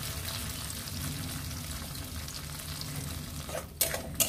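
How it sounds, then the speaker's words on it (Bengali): A boiled-and-blended paste of spices fries in hot oil in a pan, a dense steady sizzle heard close, ending in two sharp clatters from a spoon or pan. "সেটাও পেস্ট করে তেলের মধ্যে দিয়ে দিলাম"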